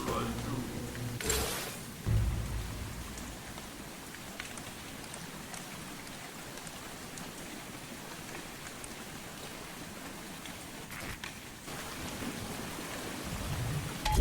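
Steady rain in République falls as a dense, even hiss throughout, with a few louder crackling bursts near the start and toward the end.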